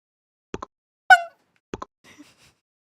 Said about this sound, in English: Louder, louder, louder. Yeah, like a clinking detached sound.